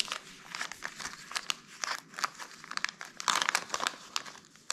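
Crinkly plastic packaging torn open and unwrapped from an aluminium part for an Xray XB4 RC car kit, a close run of sharp rustles and crackles in quick irregular bursts.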